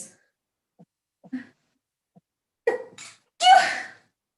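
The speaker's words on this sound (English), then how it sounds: "I'm going to sneeze." A few quiet sharp breaths build up, then one loud, explosive sneeze bursts out close by, followed by silence.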